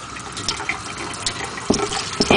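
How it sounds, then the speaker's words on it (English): Hot water running from a tap into a sink while etched glass is being scrubbed clean, a steady close splashing hiss with a few louder spatters near the end, no voices. "I basically got here my water running, hot water"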